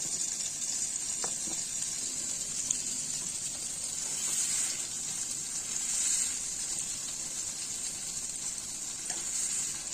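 Pieces of pointed gourd (potol) sizzle in hot oil in a kadai, a steady close frying hiss that carries evenly throughout with a few faint clicks.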